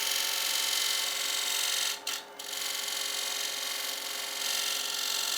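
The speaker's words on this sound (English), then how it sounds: "Just using a negative rake to clean up some of the bowl gouge marks." A negative rake scraper cleans gouge marks from a wooden bowl spinning on a lathe, producing a loud, continuous, hissing scrape that breaks off for a moment and then resumes.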